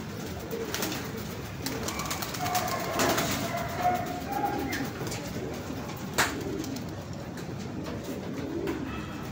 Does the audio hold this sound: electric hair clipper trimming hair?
no